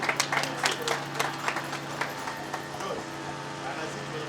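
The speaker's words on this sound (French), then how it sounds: "On l'applaudit encore une fois." Audience applause at an inauguration event, a room of people clapping with scattered sharp claps over a steady wash of hands, moderately loud and continuing for several seconds.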